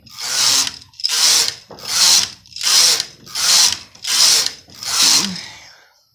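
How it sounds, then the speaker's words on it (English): A Brother 8-button punch card knitting machine's carriage makes seven even passes, each a loud mechanical whirring clatter of roughly half a second. The strokes come in a steady rhythm with brief gaps between them and no talking. "machine reading a punch card, it's not slow by hand knitting standards at all."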